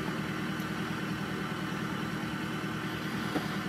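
A Chevy Tahoe engine with a cylinder 7 misfire idles on its own, a continuous moderate rumble with a slightly uneven, pulsing texture and no voices.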